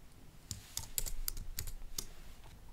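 Someone types a short heading in capital letters on a computer keyboard: a handful of crisp, separate key taps at an uneven pace, close and fairly quiet over low room noise.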